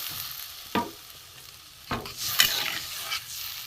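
Potatoes sautéed with spices in hot oil for a loti fish bora curry, stirred in a pan with a few sharp scraping and splashing bursts over a steady background sizzle, without any talk.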